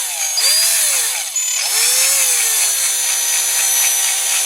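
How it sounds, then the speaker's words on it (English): Small power drill with a 2mm bit boring out the posts on a Dinky Toys RAF pressure refueller model, a steady high whine that dips and swells as the bit bites, loud and close with no talk. "let's drill these posts out"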